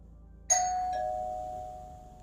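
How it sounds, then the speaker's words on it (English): A single electronic doorbell chime rings out in a quiet room, its tone ringing on and slowly fading. "The doorbell rings."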